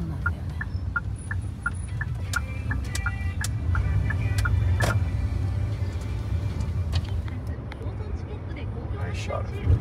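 Inside a car driven along a road in Japan, a steady low rumble of engine and tires runs beneath people chatting, with a few light rattles.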